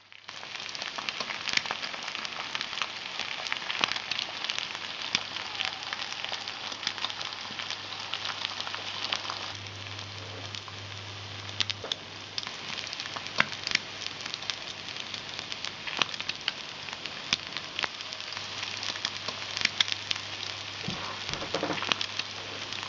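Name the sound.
frying in a mess tin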